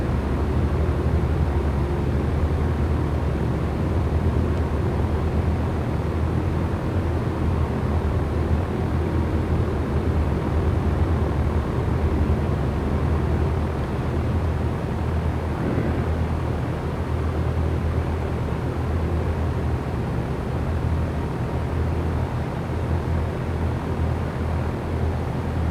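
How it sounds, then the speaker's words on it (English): Aircraft taxiing in a flight simulator game, a steady dense engine drone and broadband hiss held at constant loudness throughout, with no talk. "I'm taxiing all over the place."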